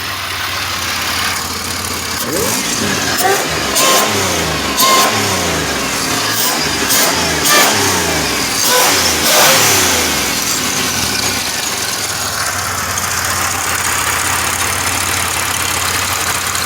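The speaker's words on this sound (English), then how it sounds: "Oh, I can rev this one under the hood." A 2007 Pontiac Grand Prix GT supercharged engine idles and then revs repeatedly under the hood, rising and falling in a series of throttle blips before settling back, loud and close.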